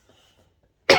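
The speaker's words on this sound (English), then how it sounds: "Oh, excuse my cough." A single sharp cough bursts out abruptly at close range after near silence.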